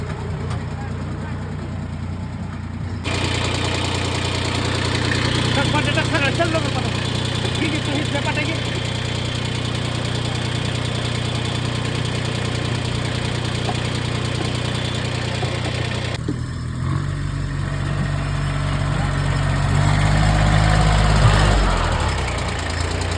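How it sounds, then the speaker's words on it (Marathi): A farm tractor carrying riders through a grape vineyard: its engine drones in a steady, low, rumbling idle-like hum. The drone jumps louder after a few seconds, holds, then shifts and grows heavier near the end. "मी आता पुन्हा बाबांसोबत ट्रॅक्टर मध्ये बसायला पुन्हा रेडी झाले."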